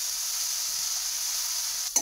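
Vegetables frying with turmeric powder in a pan, a steady even sizzle close up, ending with a single sharp clink of a utensil.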